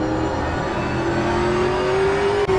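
Hypercar racing engines at Watkins Glen in a sim racing game hold a steady, loud, rising whine that climbs smoothly in pitch as the car accelerates, with a brief dip near the end, and no talk over it.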